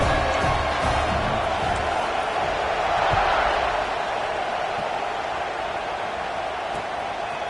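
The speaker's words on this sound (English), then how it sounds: "this crowd now ready to get behind them" Steady roar of a stadium crowd at kickoff in the College Football 26 video game, Washington against UCLA, a dense continuous cheer that swells slightly around midway and holds at a loud level throughout.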